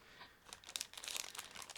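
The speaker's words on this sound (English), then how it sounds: "In the meantime, I will open the second plastic bag." A sealed plastic bag holding dark green parts from a Zvezda 1/35 Su-76M model kit crinkles and tears open in quick, close bursts of crackling, with no talking.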